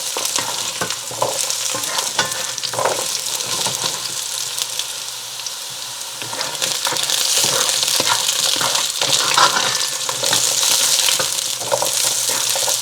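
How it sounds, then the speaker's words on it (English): Chicken pieces sizzle in a pan over medium-high heat while being tossed to brown for butternut squash chicken chili. The frying is loud and continuous, with scraping and stirring clatter, and grows fuller in the second half. "And I'll keep tossing until they're lightly browned"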